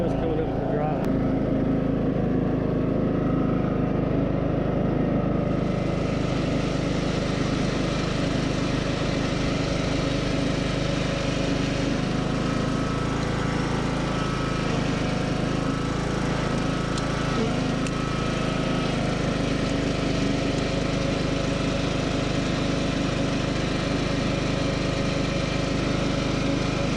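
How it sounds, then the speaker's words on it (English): A John Deere L100 series riding mower runs at wide-open throttle, its engine droning steadily and lugging under load throughout, loud and close, with people talking faintly over it. "All the way to the floor, but you can hear it lugging the engine."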